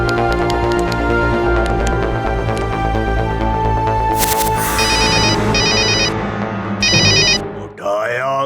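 A mobile phone in a children's cartoon rings with repeated bursts of electronic ringtone pulses. The ringing plays over a busy musical soundtrack.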